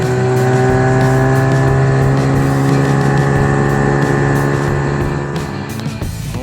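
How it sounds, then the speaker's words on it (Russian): Outboard boat motor running steadily at close range during a fishing trip in the Komi Republic in August, a loud continuous hum with strong tonal harmonics, easing off slightly near the end. "Мотор почти с первого раза."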